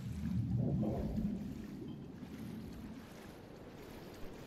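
A character swims slowly through open water in Shadow of the Colossus, giving a steady low rushing wash of water and wind that stays loud throughout, with no talking.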